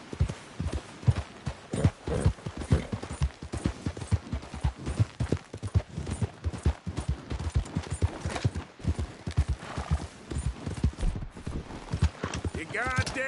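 Horse galloping in the video game Red Dead Redemption 2, rapid rhythmic hoofbeats pounding steadily and close throughout, with a voice briefly speaking over the clatter.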